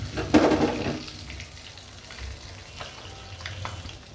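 Spiced masala fish frying in hot oil, a steady close sizzle with a louder crackling burst near the start, with no talking.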